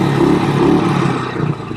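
A BSA Victor Special 441 motorcycle revs up close, its single-cylinder exhaust barking loud and throaty, then easing off toward the end.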